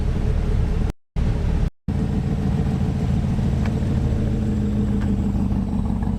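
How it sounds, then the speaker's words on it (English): A Chevrolet C8 Corvette's pushrod V8 rumbles at a steady idle, low and close. Two short gaps of silence break the sound before the even mechanical drone resumes. "This is how big pushrod V8 sound."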